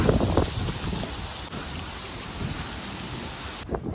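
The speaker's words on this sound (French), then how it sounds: "je suis dans une tempête de feuilles là" Strong wind sweeps a storm of leaves along a city street beside the Studio Bell building in Calgary, a loud, continuous rushing roar with gusty swells.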